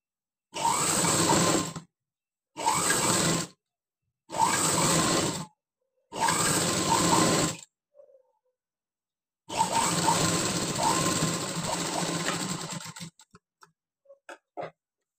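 A sewing machine stitches a blouse margin in four short bursts of rapid mechanical whirring, then one longer steady run, separated by silent pauses, with a few faint clicks and taps at the end.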